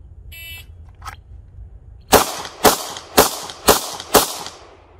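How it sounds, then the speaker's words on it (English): Five sharp handgun shots fired from a concealed holster on a shot-timer drill, evenly spaced about half a second apart, loud and close, preceded by the timer's short electronic beep. "So 5 shots in 5 seconds from a concealed holster."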